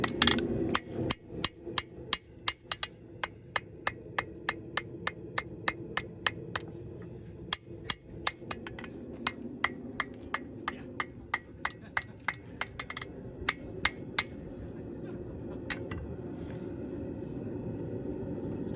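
Sharp metallic hammer strikes ring out as knife steel is forged on an anvil in steady, repeated runs, loud and close, with brief pauses between series and low background hum.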